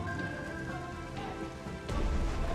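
Rain falling in the strategy game Strategic Mind: The Pacific, a steady wash of raindrops with a deeper rumble swelling near the end, alongside faint tones.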